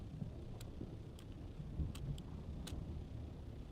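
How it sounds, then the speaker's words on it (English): Stormy weather in the Dune: Awakening video game, with a low rumbling wash of wind and rain and a few faint, brief cracks over the top, with no talking. "Storm coming in."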